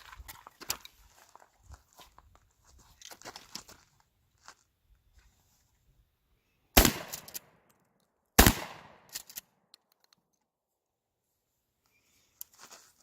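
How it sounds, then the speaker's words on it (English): Two loud, sharp shotgun blasts fired outdoors with Federal FlightControl 00 buckshot, spaced about two seconds apart, each with a brief ringing tail, amid quiet surroundings and a few faint handling clicks. "So we'll take 2 shots and we'll go see what happens."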